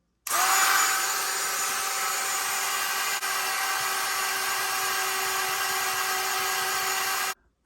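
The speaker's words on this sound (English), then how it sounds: "All right, the old Dremel tool." Dremel rotary tool buffing the high points of a silver skull casting, a close, high-pitched steady whine that starts abruptly, holds constant with one brief dip, then cuts off sharply.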